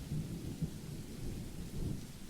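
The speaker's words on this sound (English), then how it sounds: "And with this storm still raging outside" A thunderstorm with steady rain plays as an audio drama effect, a continuous low rumble of thunder under dense rainfall, loud and close with no voices.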